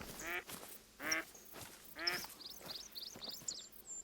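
Ducks quacking in Hunter: Call of the Wild, several raspy quacks spaced about a second apart, followed by quicker, softer chattering calls, fairly faint and distant with no talk.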